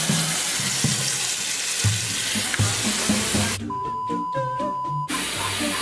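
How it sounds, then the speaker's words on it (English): Tap water running steadily into a big cooking pot, a continuous rushing splash that holds level for several seconds before a brief quieter pause. "Okay, so you get the big pot, right? And you fill it up with water."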